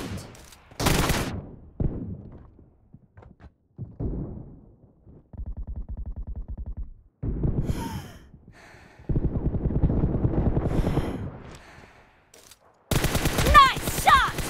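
Bursts of gunfire from PUBG Mobile, short volleys and rapid machine-gun strings separated by quiet gaps, fairly loud and close, with a sharp burst near the end.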